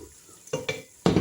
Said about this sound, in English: So I just throw in my bay leaf, and I'll still allow it to saute a little